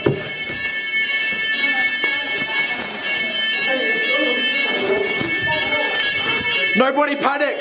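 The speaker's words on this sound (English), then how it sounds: "Fire alarm's gone off." A household fire alarm sounds a steady, piercing electronic tone that keeps going under excited, overlapping talk in the house.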